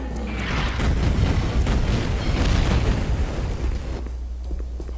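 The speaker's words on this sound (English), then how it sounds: "hearing a whole shitload of explosions behind me" Explosions in the video game Duke Nukem 3D rumble in a dense, continuous barrage of booms for about four seconds, loud and low, then ease off slightly.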